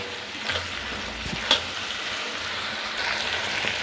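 Homemade chili powder sizzles softly in a frying pan while a spoon scrapes and stirs through it in a few brief strokes.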